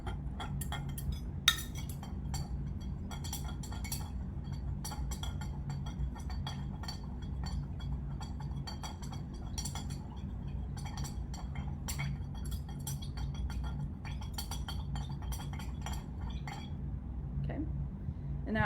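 A metal knife stirs paint inside a glass jar packed with cotton balls, giving repeated light clinks and taps against the glass over a low steady background hum, with no talking.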